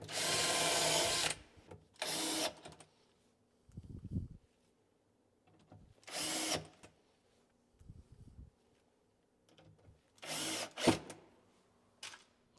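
A power drill drives screws into an undermount drawer slide in short whirring bursts, each a second or so long, separated by quiet pauses and faint handling knocks.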